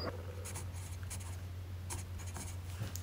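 A Pentel Super Multi 8 lead holder scratches across paper in short, faint strokes, the dry graphite scrapes coming in uneven bursts over a low steady hum.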